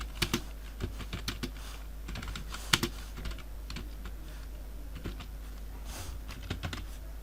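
Someone types a short note on a computer keyboard, the key clicks coming in irregular bursts and single taps over a steady low hum, close and moderately quiet, with no talking.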